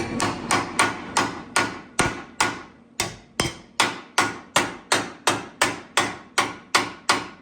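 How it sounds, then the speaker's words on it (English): Steady, evenly spaced hammer blows ring out on a metal body panel of an S10, about two per second, sharp and close, continuing without a break. "just get you a hammer"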